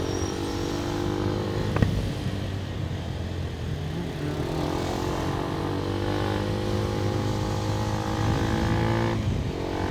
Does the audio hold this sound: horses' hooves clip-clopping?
no